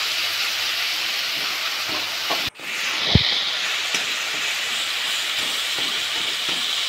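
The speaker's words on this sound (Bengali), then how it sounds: "হলুদ জলটা দিয়ে দিয়েছি, এবার মশলাটাকে কষাবো।" Spice mix with turmeric water frying in a pan, a steady loud hiss and sizzle throughout, with one sharp spitting burst near the middle.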